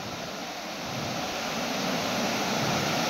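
The waterfall at Ratanmahal in Dahod roars as a continuous broadband rush of falling water that swells slightly louder toward the end, with no voices.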